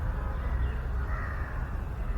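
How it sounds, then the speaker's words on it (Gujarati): Crows caw repeatedly over a steady low rumble of outdoor background noise at a nature park in Surat, with no one speaking. "ખાલી કાગડાનો અવાજ આવે કાં કાં કરે છે"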